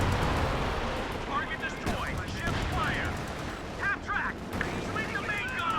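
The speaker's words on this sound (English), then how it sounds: "you can see the heavy artillery is going to come down here" Heavy artillery barrage in Company of Heroes 2, a dense rumble of blasts and gunfire rolling continuously under a voice talking over it.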